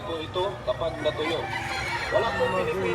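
Gamefowl crow and cluck amid the bustle of a rooster market in Lipa, Batangas, with people talking over a dense crowd of bird calls.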